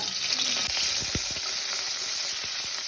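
Shallots and curry leaves sizzle steadily in hot oil for a chicken curry, a dense frying hiss with a few sharp crackles and spoon taps close by, no voices.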